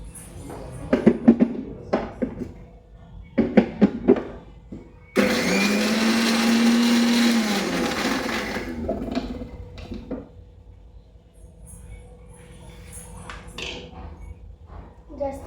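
A mixer grinder blending spinach with a chilli runs loudly for about three seconds as a steady whirring roar, with scattered clatter and talk before and after the run.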